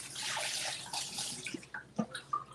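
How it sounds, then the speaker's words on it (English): Tap water running into a pot to be boiled, a fairly quiet hiss of flowing water that fades into a few scattered drips and splashes toward the end. "while Bobby's getting water"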